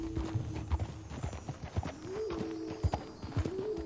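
A horse in Red Dead Redemption 2 clip-clops along in a steady rhythmic gait, hooves thudding close and clear beneath a recurring low droning tone, with no speech over it.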